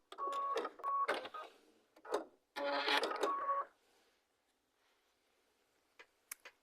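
Sewing machine stitching a quilt block seam, with two bursts of rapid mechanical stitching with brief pauses, then quiet with a few faint clicks at the end.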